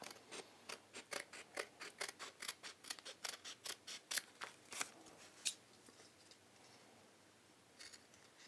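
Very sharp scissors snipping steadily through fabric, a quick regular series of crisp cuts close by that slows and thins out toward the end.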